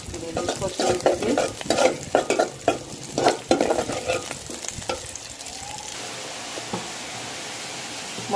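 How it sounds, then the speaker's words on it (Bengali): Onions and green chilies fry in a pan with a continuous sizzle and repeated stirring scrapes for the first few seconds, then settle into a quieter steady hiss, heard close with no talking. "পেঁয়াজ কাঁচামরিচ কষিয়ে দিচ্ছি"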